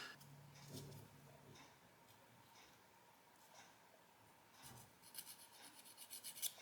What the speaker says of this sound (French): Je vais venir limer un peu sur les côtés là